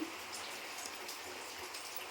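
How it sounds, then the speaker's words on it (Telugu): Rain falls steadily outside, an even, soft wash of patter with no voices. "చూడండి బయట వాన పడుతుంది"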